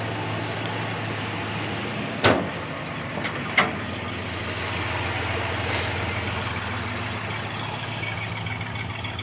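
A 1971 Buick GS convertible's engine runs at a steady, rumbling idle with no clear revving, and a couple of brief knocks or clunks stand out near the start.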